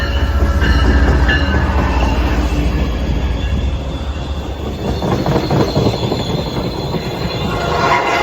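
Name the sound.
train arriving at station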